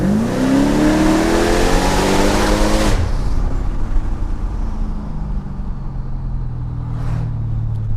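A 600 HP Mercedes CLK55 AMG engine revs hard with a loud rising roar for about three seconds, then drops to a deep, lower rumble that settles into a steady idle.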